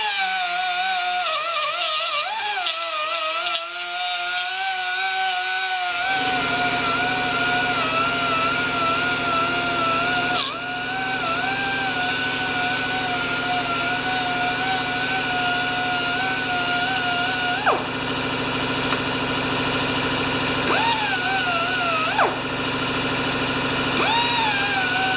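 A chainsaw bar from a Pioneer Partner 500 is power sanded with 1000 grit paper, giving a loud, steady whining drone that runs throughout with slight pitch wobbles and no talk.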